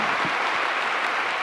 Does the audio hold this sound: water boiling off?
no